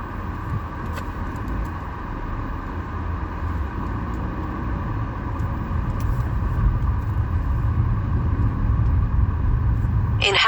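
Truck rolling right alongside a car during a food delivery drive, heard from inside the car as a steady low road rumble and engine drone that swells slightly toward the end.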